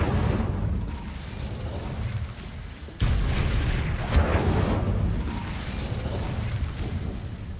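Fire and blast spells, Incendio and Confringo, go off in Hogwarts Legacy, a dense roaring whoosh of magic fire with a sharp burst near the middle and a loud rumbling explosion that carries on without pause.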